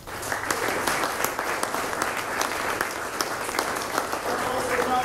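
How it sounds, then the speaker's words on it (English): Outdoor crowd applause at a Fleet Week Navy ship dedication ceremony at Gracie Mansion: steady, full clapping from many people, with faint voices mixed in beneath. "Let's give them a round of applause."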